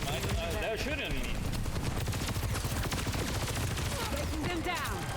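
Rapid bursts of gunfire ring out in an Overwatch-style shooter match, steady automatic fire with overlapping shots and game effects, heard under excited talk from players.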